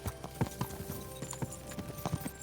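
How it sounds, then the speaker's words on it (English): Horse hooves clip-clopping in Kingdom Come: Deliverance II, a quick uneven run of soft hoof strikes at moderate distance, faint and without talk. "Do you guys see that? That was a horse"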